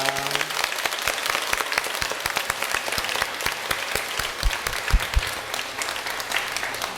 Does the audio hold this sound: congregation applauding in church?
yes